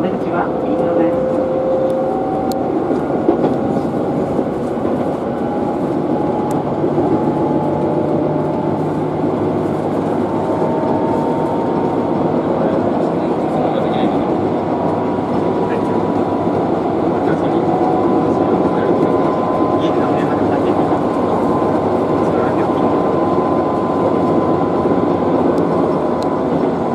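A Tobu 6050 series train runs as a section express toward Minami-Kurihashi over the Tone River bridge, with a loud, steady rolling rumble and faint whining tones heard from the front cab throughout.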